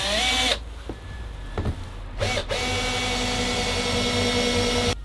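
A power drill drives screws to fix a partition board to the wheel-arch bodywork of a van, loud and close, with a steady whine that stops briefly twice and starts again, then runs on to the end with no talk.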